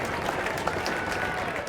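Crowd applause in The Lion's Song video game, a brief, dense and steady burst of many hands clapping at close range with a faint murmur underneath.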